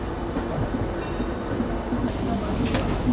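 The Howrah–New Delhi Express, train 12381, rolls along with a continuous low rumble and scattered rail clatter while voices talk over it.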